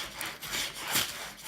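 Coarse, heavy sandpaper rasps in short back-and-forth strokes across the edges of a painted wooden sign, close and fairly loud, with no voices.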